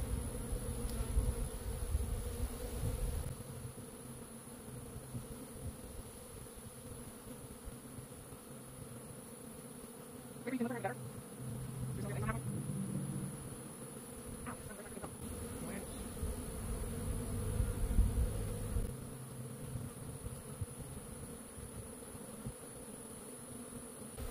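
Honey bees drone steadily in a hive during queen rearing, a close, continuous buzz that swells and eases, with a few brief sharper sounds partway through.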